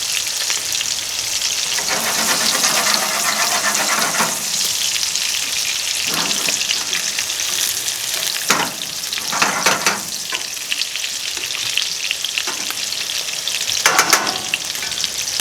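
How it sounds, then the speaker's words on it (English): Pork chops sear in a hot pan, a steady loud sizzle and crackle running throughout with occasional bursts of spattering and brief clatter, no voices. "We're going to go ahead and sear some of our pork chops."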